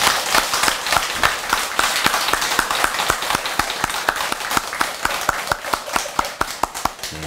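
A congregation claps together to open a Buddhist prayer service, steady rhythmic hand claps in unison at a brisk even beat, loud and close, filling the hall for several seconds without talk.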